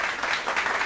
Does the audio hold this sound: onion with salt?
no